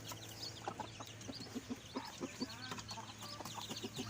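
Pamaiq straight-comb chickens, a hen and young birds, cluck softly and repeatedly nearby, short irregular clucks over a low steady background hum.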